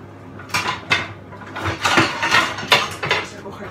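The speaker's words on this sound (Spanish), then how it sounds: "Vamos a coger una sartencita" A small frying pan is picked up in a kitchen, a few clanks and scrapes of metal cookware against a surface, with soft background clatter and brief faint voice.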